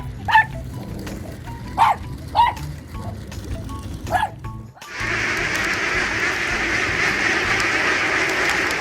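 Dogs in a Russian city bark at robot dogs, a few sharp separate yelps spaced about a second apart at moderate distance, before the scene cuts to a loud, steady rushing background noise.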